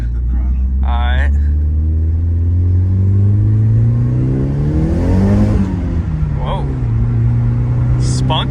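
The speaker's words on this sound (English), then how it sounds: "Are you allowed to hit the throttle a little bit? You can hit the throttle." A Nissan R32 Skyline's engine revs on the throttle close by, pitch sweeping up and falling back across several blips over a deep idle rumble, with people talking briefly over it.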